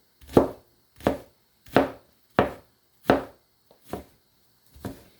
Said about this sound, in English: we'll slice it with our fingers firmly pressing down on the ginger as we cut